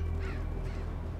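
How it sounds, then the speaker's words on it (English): Crows cawing in the video game Mark of the Ninja, a few harsh caws over a constant low background hum, moderately close and without speech. "Stirring up all the crows."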